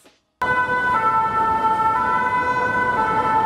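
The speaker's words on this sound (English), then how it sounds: "If you're used to hearing a fire truck or an ambulance, you're gonna notice that in France, they sound different." A loud French ambulance siren abruptly starts and holds a steady two-tone wail, close and continuous over road noise.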